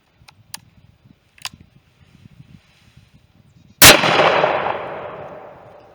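A single loud, sharp 454 Casull revolver shot into a thick red oak block, preceded by faint handling clicks, then a long ringing echo that fades over two seconds.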